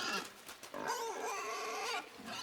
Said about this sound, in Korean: 기생충에 감염된 돼지가 갑자기 깨어나 소년을 공격합니다.